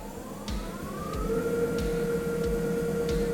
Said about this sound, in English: And as you can hear, even for a bandsaw, it's quite quiet.